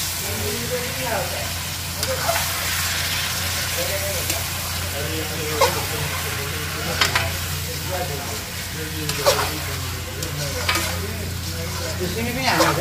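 Nepali-style chicken curry with vegetables stirred in a hot pan, a loud steady sizzle and hiss with repeated scraping strokes of a spoon, a voice talking over it at times.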